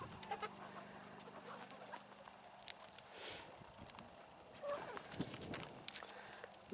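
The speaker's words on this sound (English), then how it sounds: "Look at these beautiful Rhode Island Reds." Rhode Island Red chickens in an evening farmyard, with faint clucking and scattered bird calls mixed into outdoor background noise and occasional rustling, no talking.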